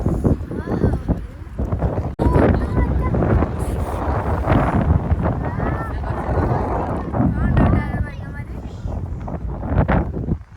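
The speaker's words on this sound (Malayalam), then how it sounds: "അപ്പോൾ നല്ല കാറ്റ് കണ്ടോ" Strong wind at a lake near Ooty buffets the microphone in a continuous roar while people talk over it.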